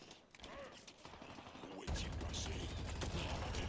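Rapid turret gunfire from a video game, a dense mechanical rattle that grows louder and fuller about halfway through and then holds steady in the foreground.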